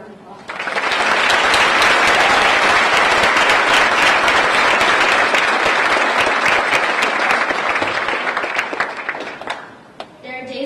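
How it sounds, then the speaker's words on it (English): An audience gives a Holocaust survivor speaker a loud, sustained round of applause, dense clapping that swells quickly, holds for several seconds and then thins out near the end. "Let's give him another round of applause."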